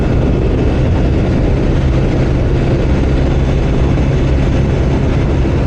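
A Jawa 42 2.1 motorcycle cruising at high speed in fifth gear, its engine a steady loud drone blended with heavy wind rush, constant throughout with no voices.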